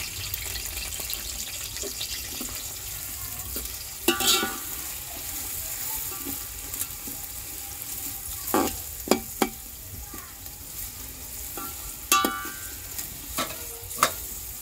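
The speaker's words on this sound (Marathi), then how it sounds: "कांदा मस्त आपला तळून गेले" Onions with garam masala and curry leaves frying and being stirred in a pan in a village kitchen, a steady low sizzle broken by sharp scraping clinks of the spoon, with a trickle of tap water now and then.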